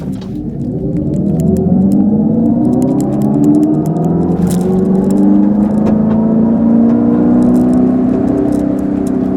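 A 2025 Dodge Charger Daytona R/T accelerating from 0 to 60, heard from inside as a loud, smooth drive whine and hum that climbs steadily in pitch, with light rattles and ticks over it.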